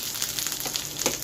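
Freshly grated coconut frying in tempered oil, a soft close sizzle with small crackles and a few stirring sounds.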